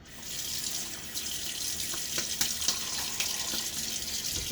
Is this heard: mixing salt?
no